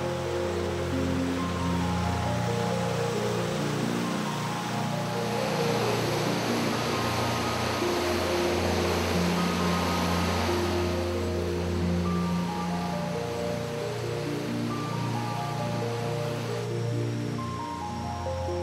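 Steady rushing roar of falling water at Khao Yai waterfall in Khao Yai National Park, Thailand, a broad continuous wash heard up close that stays loud and even throughout.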